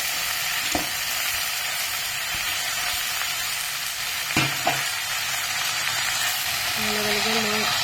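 Leafy greens dropped into hot mustard oil with panch phoron, giving a loud continuous sizzle with a few clacks of a utensil against the pan, no talking.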